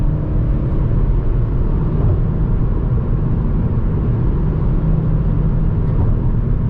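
Mazda CX-30 2020 SkyActiv-X 180 HP engine droning steadily in a lower gear during a night drive, a dense low rumble with road noise heard from inside the cabin, constant and fairly loud throughout.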